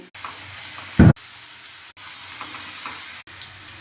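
Squeezed, salted shredded cabbage fries dry in a pan with a close, even sizzle broken by a few sharp cuts and one loud stirring clunk, with no talking.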